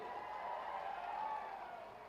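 A crowd applauds steadily at a public centenary event in Chikkodi, a dense, even wash of many hands clapping at moderate distance that swells slightly midway and holds for the whole moment.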